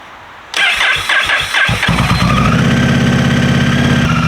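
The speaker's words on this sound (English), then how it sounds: "Should we start it up and see what it sounds like? This is with the new exhaust on it." A 2022 Honda Rebel 1100 motorcycle fitted with a Lextek exhaust cranks with a few quick starter chugs, then fires up loudly and settles into a deep, steady close-up rumble.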